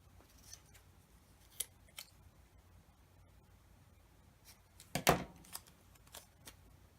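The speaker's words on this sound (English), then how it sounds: "I'm just going to have to trim that a bit." Scissors trim a piece of craft material close by, giving a handful of scattered crisp snips with one louder cut partway through, over quiet room noise.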